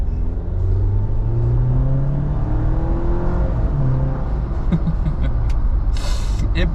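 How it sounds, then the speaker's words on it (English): A Jeep engine roars under hard acceleration from a standing start, a loud, steady drone climbing in pitch as it picks up speed, with wind and road noise building and a brief hiss near the end. "give a tiny taste of acceleration with the Jeep"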